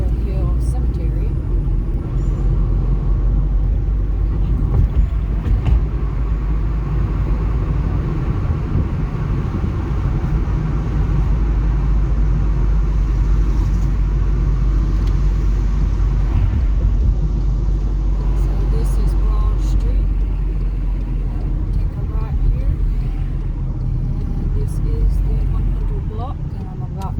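Steady low rumble of a car driving along a road, constant engine and tire noise filling the cabin throughout, with a voice talking over it.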